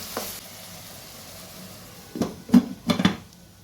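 Curry of dry prawns and drumsticks simmering in a covered pot, a soft steady bubbling hiss that rises into a few louder bursts of clattering and stirring near the end.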